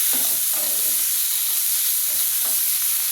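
Garlic, green chili and tomato fry in a pan with an even hiss. Soft stirring scrapes and taps break through it now and then, close and steady.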